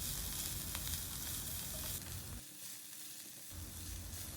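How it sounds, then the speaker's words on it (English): Minced garlic sizzles steadily in a hot pan, a dense continuous frying hiss that dips briefly quieter partway through before swelling back up. "we'll add the minced garlic. Saute this for a minute or so."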